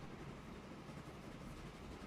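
A train rolls along in a railway-building video game set around Manchester's Longsight depot, giving a faint, steady rumble and hiss with no distinct beats and no talk.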